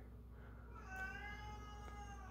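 A house cat meows once in a drawn-out, rising-and-falling call indoors among houseplants, fairly clear against a low steady hum.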